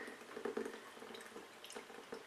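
Blended soybean milk pours through a nut milk bag set on a wire mesh strainer into a jug, a soft liquid trickle and drip, faint and close, with no talking.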